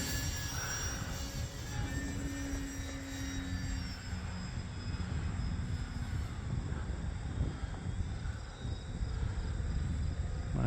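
A QQ Yak 55 electric RC model airplane flies overhead, its motor giving a steady, moderately loud buzzing whine that shifts in pitch as it passes and turns, heard outdoors over about ten seconds with no talk.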